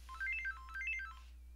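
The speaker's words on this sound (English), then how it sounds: "Phone's ringing." A telephone rings with two quick bursts of a warbling electronic trill. It is fairly faint under a steady low hum.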